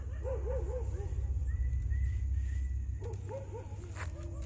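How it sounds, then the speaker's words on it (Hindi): Several dogs bark and yelp in the distance, in short bursts at the start and again near the end, over a low steady background hum. "कुत्ते भौंकने शुरू हो गए।"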